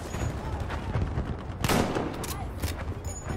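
Dense, loud gunfire from a Battlefield V match, with a sharp burst of shots standing out midway over a steady background of combat noise and faint voices.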